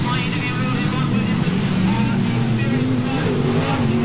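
Sprintcars racing in a heat at the Canberra Powerdome speedway during the 1989 Australian Sprintcar Title, a loud continuous engine roar with shifting pitch, a commentator talking over it throughout.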